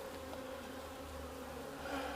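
Honeybees drone and hum steadily around a small hive during an autumn inspection, a close, continuous buzz with no voices.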